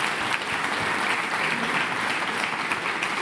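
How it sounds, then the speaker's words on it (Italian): A sports event audience applauds the Bari under-13 youth team seated in the front rows, a steady, full wash of many hands clapping for a few seconds with no voices on top. "Un applauso a voi."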